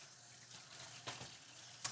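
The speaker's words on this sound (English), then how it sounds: "I'm just going to wash the celery up a little bit because it's dirty." Dirty celery being rinsed under a running kitchen tap, a soft steady stream of water with a few brief splashy bursts as the stalks pass through it, heard fairly close and alone.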